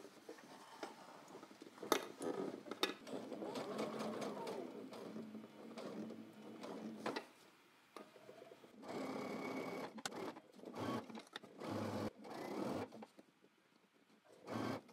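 A sewing machine stitches a trench coat pocket bag, its steady rapid whirring running in bursts with brief pauses and a few clicks between, close and fairly quiet.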